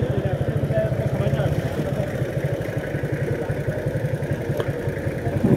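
A motorbike engine runs on a road between Bandarban and Ruma Bazar, a steady low throbbing putter close by and fairly loud, with people talking over it.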